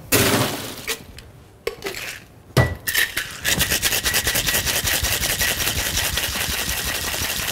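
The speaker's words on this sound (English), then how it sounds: "And then give it a hard shake." A cocktail shaker holding sorrel rum punch and ice starts with a few clinks and settles into hard, rapid, rattling shaking, loud and close and steady in rhythm.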